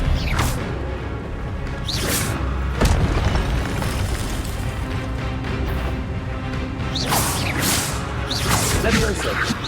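Spells crackle and whoosh with booms and crashes in the video game Hogwarts Legacy amid dense continuous combat effects and a talking voice.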